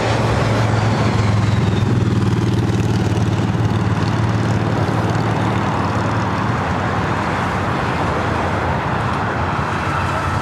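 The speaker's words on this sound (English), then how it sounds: "Singapore, flight 11, heading back to Tokyo Narita, taking off there on the south side." A Singapore Airlines airliner, flight 11, takes off from the south side of LAX, a steady loud engine roar with a strong low rumble that holds through the whole stretch, with no talk over it.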